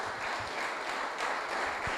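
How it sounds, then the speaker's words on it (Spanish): A church congregation claps together during a pastor's sermon, a continuous, moderately quiet patter of many hands with a slightly distant, roomy quality. "Dele palmas al Rey para que no se duerma."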